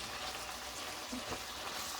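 Garlic sizzling in a pan while cooking dirty rice, a steady soft frying hiss, faint and continuous throughout.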